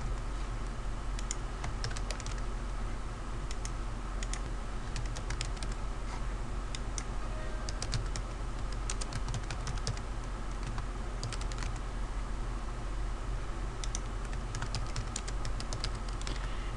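Quick, steady typing on a classroom computer keyboard while filling out an online form, dense clicking keystrokes close up over a faint room hum, no voices.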